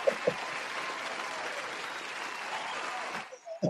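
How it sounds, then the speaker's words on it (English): A round of applause fills the space with a dense, even wash of clapping that holds steady for several seconds, then tapers off. "Big round of applause for Dr. Seymour Butts."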